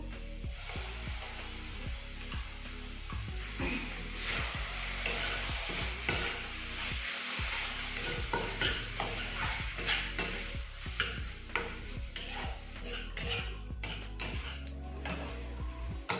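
Chopped tomatoes are stirred with cooked onions in a pan for masala macaroni, brisk repeated spatula scrapes and clacks over a constant sizzle, growing busier toward the end, close up and alone.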